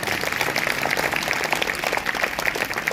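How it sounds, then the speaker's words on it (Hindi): An audience at a Hindi-language church sermon claps loudly and steadily, a dense, continuous patter of many hands filling the whole stretch without a break. "अगर आई है तो जोरदार तालियां बजाओ।"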